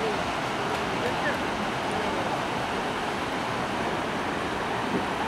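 Sea surf on a crowded Baltic beach at Vecāķi on the Riga coast, a steady broadband wash of waves and wind close by without break, with faint voices in the background.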